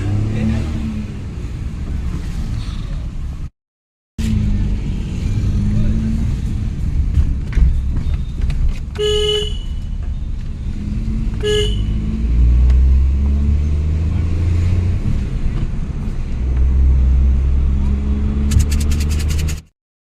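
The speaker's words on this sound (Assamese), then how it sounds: "বলক গাড়ী মই চলাই আছোঁ এতিয়া গাড়ীতে যাওঁ" A car driven on the road gives a steady, close engine rumble with light rattles from inside the cabin, and a few faint clicks and beeps punctuate the drone.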